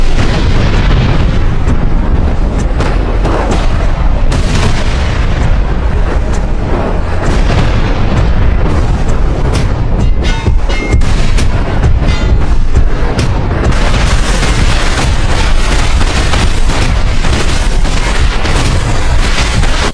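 Loud, continuous video game explosions and booms crash over one another, dense and close, with no speech.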